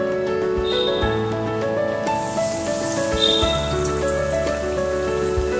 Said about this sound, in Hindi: अब हम ये कटलेट्स को फ्राई करेंगे।